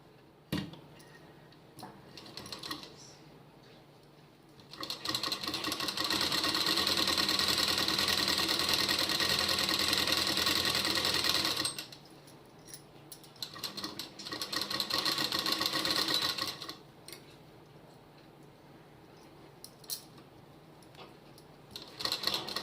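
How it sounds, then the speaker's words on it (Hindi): A sewing machine runs in two long bursts while stitching a suit lining, a close, steady rapid whirring hum, with quieter handling clicks and pauses between the runs and no talking. "अब मैं इस वाले बाजू को भी यहाँ पे सिलाई करके सिक्योर कर लूँगी"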